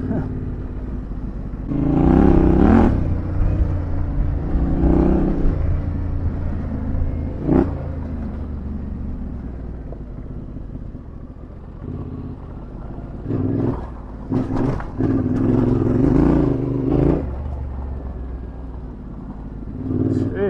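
Yamaha Tenere 700 motorcycle riding through a paddock, its engine rumbling steadily with several louder surges of revving and rough bumps, close to the rider amid wind noise.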